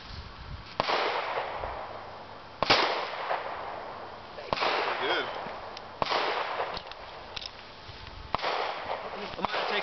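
A handgun fires a Hydra-Shok hollow point round into a ballistics gel block, a sharp close report among several loud cracking bangs spaced a couple of seconds apart, with voices nearby.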